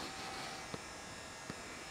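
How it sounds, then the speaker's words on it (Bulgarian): Steady, faint hum of a tower fan running, a continuous even whir, broken twice by brief soft knocks. "Вентилатор. Климатик. Да, Tower Fan."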